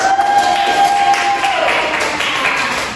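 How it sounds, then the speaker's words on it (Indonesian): Group applause from students in a classroom, a steady patter of many hands clapping close by, with a faint tone humming underneath for the first half. "Boleh tepuk tangan."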